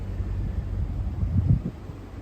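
Breezy wind on a heavy, humid Florida evening, a steady low rumble buffeting the microphone with a few stronger gusts partway through, no voices.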